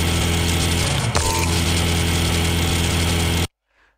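A steady electrical hum like a running microwave oven drones loudly, with a brief clunk near the middle, then cuts off abruptly into near silence.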